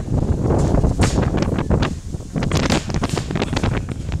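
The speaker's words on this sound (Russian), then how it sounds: "Очень ветрено стало." Strong gusty wind on an observation tower in Gulbene buffets the microphone with loud, rumbling roars that rise and fall continuously, no voices audible.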